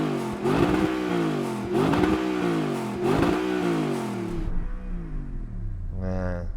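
A powerful Audi R8 V8 engine revs hard three times in quick succession, each blip rising and falling in pitch, then settles to a deep idle before another rev.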